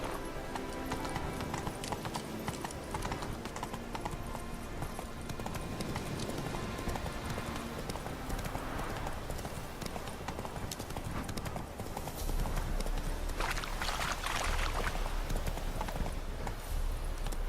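Horse hooves clip-clop steadily in The Witcher 3, a brisk, continuous rhythmic clatter heard up close under game ambience, with a brief neigh and some faint talk.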